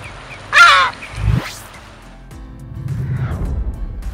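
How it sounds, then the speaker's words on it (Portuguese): A single loud, harsh kelp gull call rings out near the start on islands off Rio de Janeiro, followed by a rushing swoosh and a low rumbling background. "Os gaivotões são as aves mais escandalosas nessa sinfonia"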